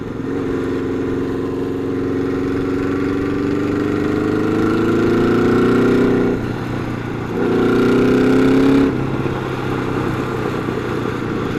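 A Honda Nighthawk motorcycle engine runs steadily in neutral on a rough road, a low throbbing idle with two brief revs partway through, close and fairly loud with no talking.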